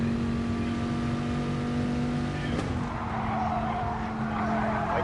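Race car in a racing video game held at a steady high engine drone, with a tire squeal and skid rising midway as the car turns into a corner, loud and continuous.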